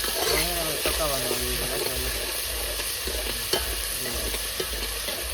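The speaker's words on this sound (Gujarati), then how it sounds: "તેલ લખાઈ ગયું છે ભાઈ હવે નાખવાનું છે ડુંગળી ને એ તો ભાઈ ડુંગળી નાખી જોયું છે" Onions frying in hot oil give a loud, continuous sizzle with scraping stir sounds, and a voice speaks briefly near the start.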